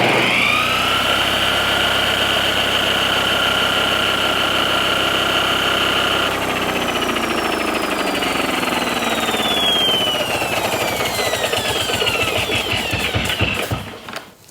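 A home-made bowling ball spinner built on a desk runs steadily with a loud motor hum and rattling vibration, its pitch sliding downward near the end as it winds down, with no talking.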